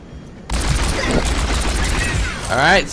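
McCree's rapid gunfire in the Overwatch video game, a sudden loud fusillade of fast, close shots fired in a quick burst, with a ricochet-like whine at the end.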